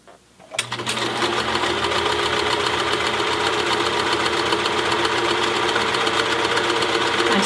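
A sewing machine stitches the seams of a cloth face mask, starting after a brief quiet moment and then running loud and steady with continuous close mechanical whirring for the rest of the clip.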